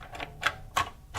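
Several sharp plastic clicks from the switch of a Record Power Sabre 350 14-inch bandsaw, close and crisp, spaced unevenly in quiet surroundings.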